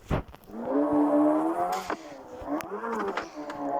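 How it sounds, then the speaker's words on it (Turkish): A Honda car engine revs in the mobile driving game Car Parking Multiplayer, a loud, continuous synthetic engine tone that climbs, dips and climbs again, with no talk over it. "Arabanın sesi fazla gelebilir"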